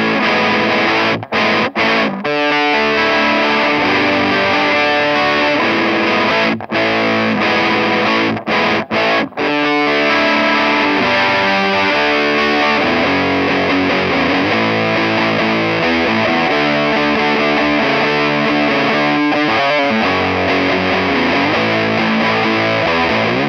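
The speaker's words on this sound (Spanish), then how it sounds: "Con esta configuración vamos a tener una distorsión pesada pero armónica." Gibson Firebird electric guitar played through a Walrus Audio Iron Horse distortion pedal into a Fender amplifier, giving heavy, harmonically rich sustained chords that ring loud and continuous with a few brief breaks near the start.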